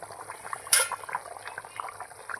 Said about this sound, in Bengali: এই যে দেখুন বন্ধুরা কত সুন্দর ফুটছে